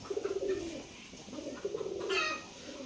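Matching giribaz pigeons kept in an abandoned courtyard coo in two soft, throaty rolling phrases, heard close and alone.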